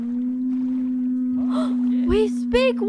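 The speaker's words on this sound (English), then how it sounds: "You heard it. There was a whale. I think it's a great an orca." An orca call in a video game, a few rising and falling whistles near the end over a steady hum, with people talking.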